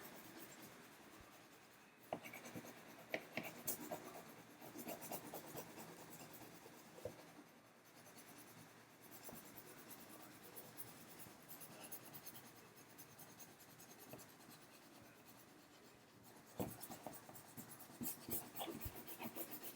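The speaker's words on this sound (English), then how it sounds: "I like using crayons to color a big area like this versus markers" Crayon rubbed over a large area of paper for a hot air balloon art project, a continuous dry scratching and scribbling with rhythmic strokes and brief pauses, close and fairly quiet.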